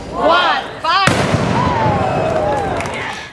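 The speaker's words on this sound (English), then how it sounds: "With the firing of the cannon" A cannon fires once with a sudden loud boom at a planting day in Hemming Plaza, Jacksonville, its blast rumbling and decaying for a few seconds while a voice is heard just before it.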